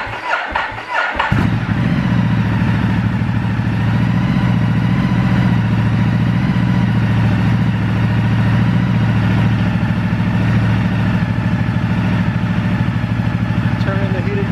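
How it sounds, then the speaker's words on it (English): A Ducati motorcycle fires up after a brief start-up burst, then settles into a steady, loud, close idle that rumbles evenly and holds for the rest of the clip. "Maybe I do have to start the motorcycle"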